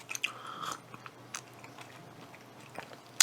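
Pickled squid bitten and chewed close up, soft crunchy bites followed by quiet, intermittent chewing in a hushed room.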